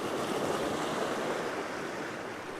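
Ocean surf washing steadily onto a shore, a continuous broadband rush of breaking water with no clear pauses, fairly close and filling the whole stretch with no voices.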